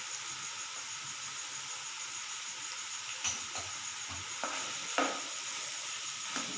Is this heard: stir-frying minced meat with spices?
yes